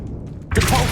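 A Confringo fire spell from Hogwarts Legacy bursts in suddenly after a quiet stretch, a loud broadband blast that fills the second half and holds at full strength to the end.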